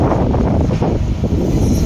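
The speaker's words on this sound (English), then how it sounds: "I don't know if you can listen to the sound, the howling wind." Strong wind roars and buffets steadily across the microphone, a dense low rumbling gust with no voices.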